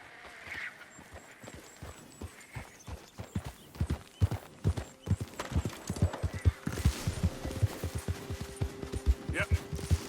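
Horse hooves clip-clop in a steady, quickening rhythm, close and prominent, with occasional talk and other game sounds in the background, in Red Dead Redemption 2.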